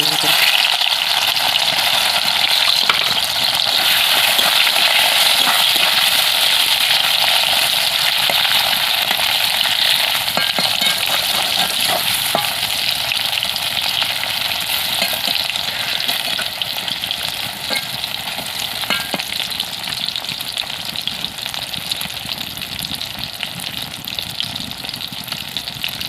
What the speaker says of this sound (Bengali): তেল গরম হয়ে গেছে, ম্যারিনেট করা কাঁচকলাগুলো ভেজে নেব লাল লাল করে।